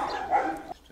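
A 14-year-old female dog at an animal shelter gives a single short, close bark or yip lasting under a second, then goes quiet.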